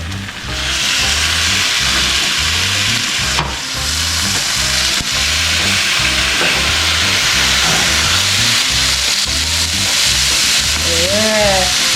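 Marinated beef fries in a hot pan with a loud, continuous sizzle and crackle, close up. A brief scrape of the pan sounds partway through, with no talk over it.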